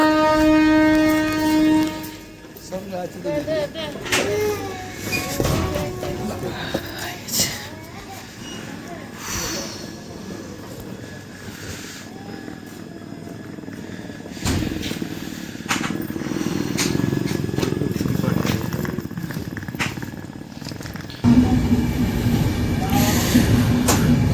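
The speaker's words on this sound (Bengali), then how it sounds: "তো আমাদের ট্রেন নিউ ফারাক্কা জংশন ছেড়ে বেরিয়ে যাচ্ছে তার পরবর্তী গন্তব্যের দিকে।" Radhikapur Express, an LHB passenger train, pulls out of New Farakka Junction with a steady rumble and clatter of wheels on track that builds and holds, a horn-like tone at the start, and people talking nearby throughout.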